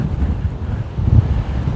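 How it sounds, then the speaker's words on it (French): Strong wind at the beach buffets the microphone in a steady, close, roaring rumble with gusty swells and a faint wash of surf beneath, no voices. "le vent qu'il y a."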